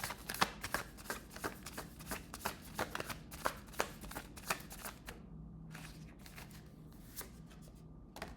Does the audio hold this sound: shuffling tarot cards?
yes